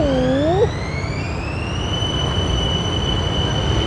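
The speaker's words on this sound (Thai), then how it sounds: "นี่รถไฟกำลังไป" A train running through Bangkok, with a steady rolling rumble, a short rising squeal at the start and then a sustained high-pitched electric whine, fairly loud and without talk.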